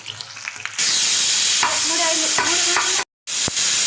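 Slices of eggplant, potato and raw plantain fry loudly in hot oil in a pan, a dense close sizzle with a few brief tonal squeaks and a short gap where the sound cuts out, no voices.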